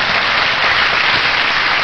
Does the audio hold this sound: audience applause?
yes